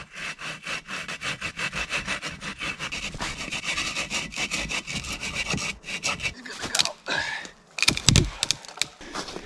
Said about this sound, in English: Sweet little saw.